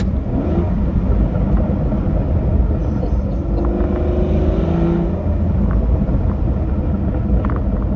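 A 5.9-litre V12 in a 2009 Aston Martin DBS Volante with sports exhaust rumbles loud and near throughout, swelling slightly midway as the revs climb and ease.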